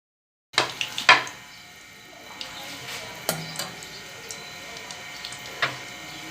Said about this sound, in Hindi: अब हम इनको निकाल के अलग कर लेते हैं दूसरे बर्तन में।